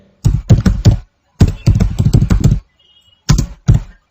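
Bursts of quick keyboard typing, close and crisp, in several separate runs with short pauses between them.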